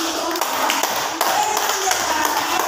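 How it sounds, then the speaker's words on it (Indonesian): Hands clapping in a Catholic religious education class, a brisk run of sharp claps from a small group, close and fairly steady, with voices faintly underneath. "Tepuk tangan."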